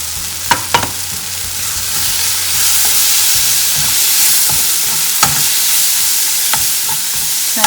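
Onion fries in a pan with garam masala, salt, coriander-cumin powder and chilli, a loud steady sizzle punctuated by occasional spoon knocks and scraping as it is stirred.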